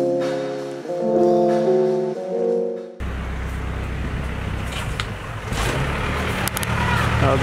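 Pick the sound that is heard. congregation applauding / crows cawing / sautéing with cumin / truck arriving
truck arriving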